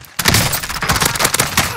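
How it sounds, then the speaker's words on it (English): Rapid bursts of gunfire ring out in a Call of Duty Warzone match on Rebirth Island, loud and near, with dense overlapping shots that come in quick volleys for the whole stretch. "Dude, I'm being shot from too many places."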